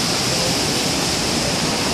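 Water rushes steadily through a horizontal-wheel grain mill, a loud, unbroken roar of flow with no pauses or voices.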